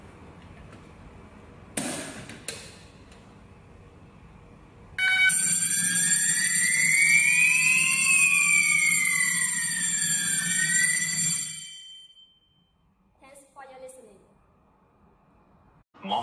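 An ASENWARE AW-FP100 series addressable fire alarm sounding during a wireless manual call point test, a loud sweeping electronic siren tone that rises and falls for about seven seconds, bracketed by clicks and brief handling noises.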